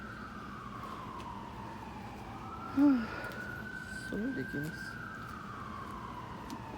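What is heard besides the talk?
siren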